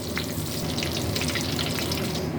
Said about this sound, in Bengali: এবার আমি এই তেলে তেজপাতা আর এই যে গরম মশলা ফোড়ন দিয়ে দিলাম